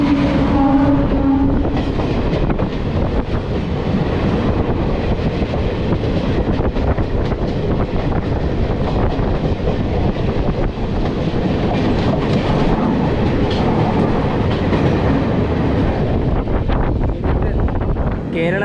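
A passenger train runs on rails as it approaches Thrissur railway station in Kerala, with a loud continuous rumble, rhythmic clatter and wind noise heard from aboard the train.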